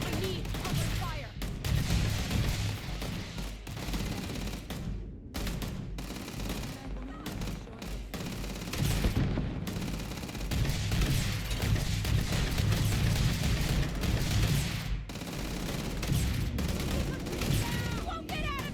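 Dense gunfire in a Starfield firefight, rapid volleys of shots and automatic bursts sustained almost continuously at close range, with voices shouting over the battle.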